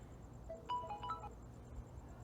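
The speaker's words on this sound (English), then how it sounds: "I'm trying to call myself from a different phone, and the call is ringing" An incoming call rings on a phone as a short melodic ringtone, a few quick tones played once, faint against a steady background hum.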